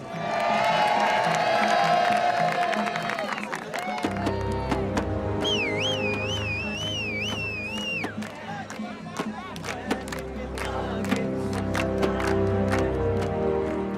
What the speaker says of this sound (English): I think he'd have loved this modern crowd turning up to honour him.